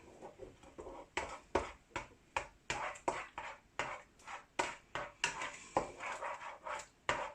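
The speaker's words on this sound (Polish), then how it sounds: "cały czas teraz już mieszam, żeby mi się nie przypaliło" Scrambled eggs stirred in a frying pan, a spatula scraping and tapping the pan in steady repeated strokes, roughly two per second, close and clear with no talking.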